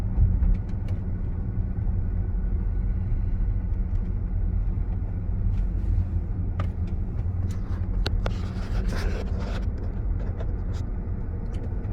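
A Tesla Model X Plaid cruising a sunny highway, heard from inside as a steady low road and tire rumble with light wind noise and a few faint clicks and rattles in the cabin.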